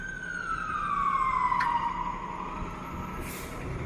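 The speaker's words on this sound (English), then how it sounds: "These fire trucks are having a hard time getting through the backed up traffic." A fire truck siren wails with a single descending sweep while the truck is stuck in backed-up traffic along Yonge Street in midtown Toronto at night, moderately close amid steady street noise, with a brief air-brake hiss.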